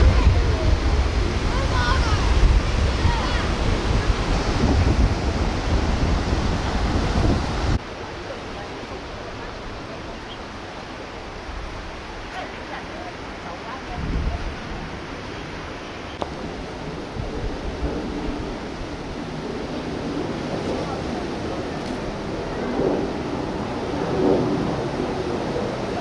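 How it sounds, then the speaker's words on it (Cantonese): Strong wind buffets the microphone while big waves surge and crash on the rocky coast at Big Wave Bay, Hong Kong, on a hike from Dragon's Back to Siu Sai Wan. People talk faintly beneath the steady roar. "你見過咁勁嘅風啊？"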